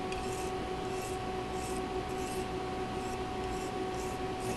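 A blade is honed on an India sharpening stone to clear its burrs, with repeated rhythmic scraping strokes about twice a second, close and steady over a constant background hum.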